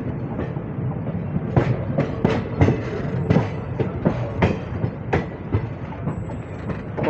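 Saptagiri Express No. 16057 rolling from Chennai toward the Guntakal–Mumbai line, carriage wheels beating a steady clickety-clack over rail joints with a constant rumble, loud and close from inside the coach.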